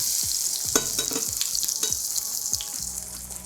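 A courgette and chickpea herb pancake sizzles steadily in a hot pan, a loud continuous fry with faint scraping or stirring touches throughout and no voices.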